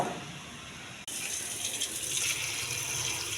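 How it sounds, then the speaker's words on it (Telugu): Tap water runs steadily into a sink as a quarter kilo of grapes is washed for juice, a continuous close gushing that grows louder after a brief break. "పావు కిలో కాయలు కడిగి శుభ్రంగా"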